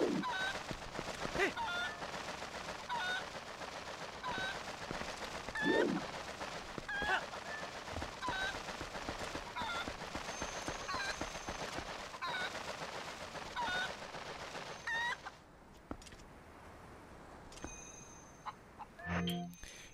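In The Legend of Zelda: Twilight Princess, a chicken clucks and squawks in repeated honking bursts over busy game background sounds, fairly loud and close throughout, with someone talking at times.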